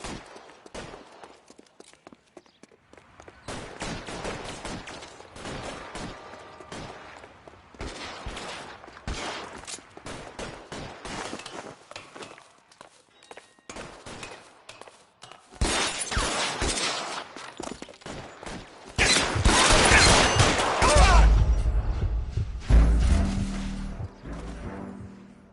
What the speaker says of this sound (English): All units, shots fired.